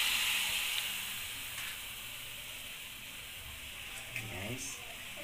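Pork marinade hits a hot pan with a strong hiss that eases into a steady sizzle, fading slightly over several seconds, with a brief clatter near the end.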